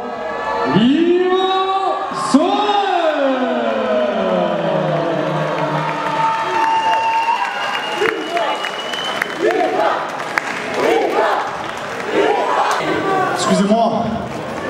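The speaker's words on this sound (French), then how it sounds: "Je voudrais qu'on l'applaudisse comme il se doit." A crowd at a Pancrace fight applauds and cheers the winning fighter after a third-round TKO. Loud sustained clapping with whoops and shouts fills the room, and an announcer's amplified voice carries over the noise.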